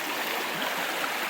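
North Umpqua River flowing past a shaded trailside spot, a close, steady broadband rush and babble of moving water with no talking.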